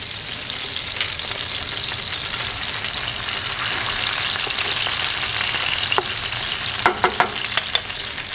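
Hot pepper frying in oil with anchovies in a pan for spaghetti aglio e olio: a loud, continuous close-up sizzle with a few sharper pops and crackles near the end.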